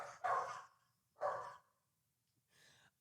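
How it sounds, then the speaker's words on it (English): Dog barking over a phone line: three short, muffled barks spaced about a second apart, compressed and mid-loud. "I can hear Farley's barks through the phone."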